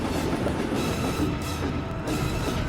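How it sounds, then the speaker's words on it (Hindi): A train rolls in toward a giant pit during an outdoor stunt, a steady, loud rumble of wheels and rail clatter filling the scene without pause and with no voices over it. "ओह माय गॉड, ट्रेन आ रही है।"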